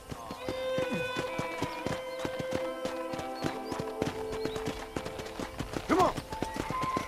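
Horse hooves clip-clop steadily while riding in Red Dead Redemption, a rhythmic string of close hoof strikes with a brief whinny near the end, under speech and game sounds.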